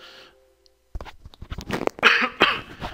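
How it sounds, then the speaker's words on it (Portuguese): A quiet moment, then a burst of harsh coughing, several rough explosive coughs close to the microphone, growing louder toward the end. "Tive que tossir."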